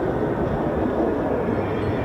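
Broad, steady low roar of F-15 and F-35 fighter jets at RAF Lakenheath, a continuous rumble with no distinct passes or peaks, heard without talk.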